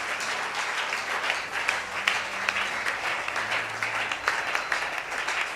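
A church congregation applauding and cheering in acclaim of Jesus, dense sustained clapping from a large crowd with scattered shouts and a faint voice underneath.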